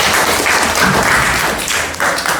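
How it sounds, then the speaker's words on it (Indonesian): A classroom of middle school students claps their hands together in a brisk burst, close and fairly loud, with a slightly uneven rhythm that holds for a couple of seconds. "Tepuk tangan."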